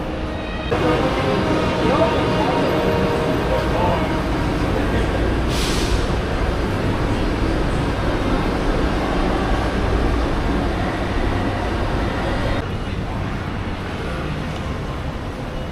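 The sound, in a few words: tram ride to Xinbeitou, Taipei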